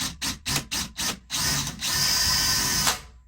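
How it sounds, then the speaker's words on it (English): A power drill boring holes while a California Closet system is installed, close by and loud: several short trigger bursts, then one sustained whining run that stops abruptly, with no talking over it. "I've got to come right next to here and drill two holes out that are going to be even for these things"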